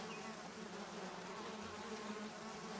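Bees in the game Zork: Grand Inquisitor make a steady, dense buzzing drone that holds even and unbroken throughout.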